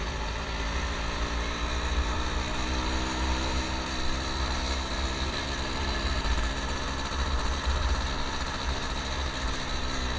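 A stock Yamaha Force One 110cc motorcycle engine runs steadily at idle, a close, even, continuous hum with no throttle changes and no voices.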